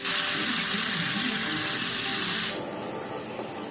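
Chicken pieces frying over medium heat in a pan, giving a loud, steady broadband sizzle that runs unbroken and then drops slightly softer near the end, with no talking.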